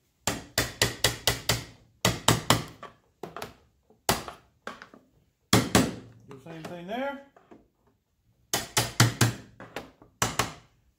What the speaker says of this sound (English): Let's go ahead and tap it down here ever so slightly.